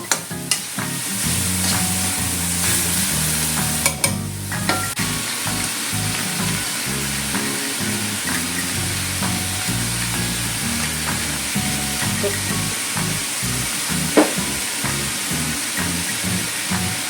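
Pork and pork liver frying in a pan for batchoy, a loud continuous sizzle with repeated scraping stirs and clacks of a utensil against the pan throughout.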